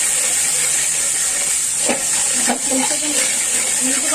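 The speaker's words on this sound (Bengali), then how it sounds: "আমি এটা ভেজে নিব, যেন মটরশুঁটির যে গন্ধটা আছে গন্ধটা যেন না থাকে, ভাজা ভাজা মতো" Green peas and cashews sizzle in hot oil in a pan, a dense continuous hiss loud and close, with faint clinks of a spoon stirring through the frying.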